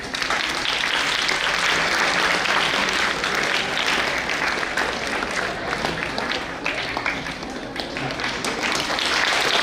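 An audience at a school annual prize distribution applauds continuously, a dense, steady wash of many hands clapping that holds at an even level for several seconds with no talk over it.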